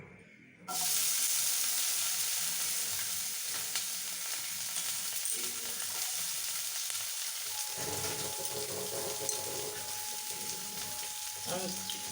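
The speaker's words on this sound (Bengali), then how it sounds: "এবারে পেঁয়াজগুলোকে ভেজে নেব" Onions hit hot oil with a sudden loud burst of sizzling after a brief quiet start, then keep frying in a strong, steady hiss with occasional stirring scrapes.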